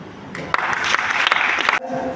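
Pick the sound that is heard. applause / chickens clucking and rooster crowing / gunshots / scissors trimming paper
applause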